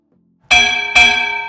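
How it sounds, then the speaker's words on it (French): A bell struck twice to open a podcast, two bright ringing dings about half a second apart, each sustaining with a clear shimmering tone after silence. "on vient d'entendre la cloche qui sonne le début d'un nouveau podcast"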